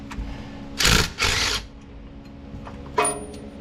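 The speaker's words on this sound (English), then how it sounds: "It's breaking them because I'm using a rattle gun" An impact wrench on a 1969 Ford F250 rattles in short bursts, two close hammering bursts followed by a briefer one after a pause, loud and near.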